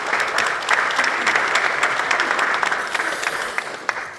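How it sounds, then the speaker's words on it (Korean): Sustained applause from Democratic Party lawmakers welcoming party leader Lee Jae-myung at a New Year caucus meeting, a dense steady roar of many hands clapping throughout with no speech. "신년을 맞아서 큰 박수로 환영해 주시기 바랍니다"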